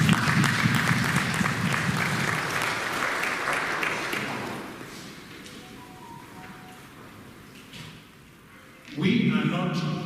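A church congregation at an Igbo Mass at St Eugene in Los Angeles breaks into loud, dense applause that gradually thins out and fades, before a voice with music comes in near the end.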